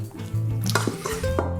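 A utensil clinks and scrapes around a bowl while stirring a nugget seasoning mix of pepper and onion powder, with a few short taps and knocks against the dish and no talking.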